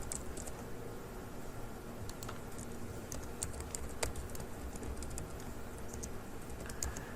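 Fingers clatter across a computer keyboard in a rapid, uneven stream of crisp key clicks, close and continuous, with no talking.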